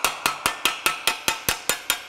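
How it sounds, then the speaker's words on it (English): Crown end of a body hammer lightly tapping along a butt-welded seam on a car body panel, eleven crisp, evenly spaced metallic taps at a brisk steady rhythm, close and alone. "I'm going to use the crown end of this hammer and just lightly go along there, just lightly stretch this weld seam"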